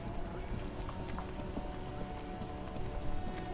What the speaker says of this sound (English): Oop, it's raining again.